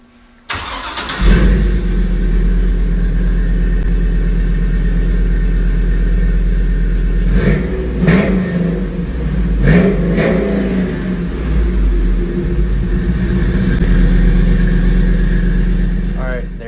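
A 2007 Chevrolet Silverado 6.0 truck engine with long tube headers idles with a deep exhaust rumble, then revs sharply several times through a loud Flowmaster American Thunder exhaust before settling back to a throaty idle.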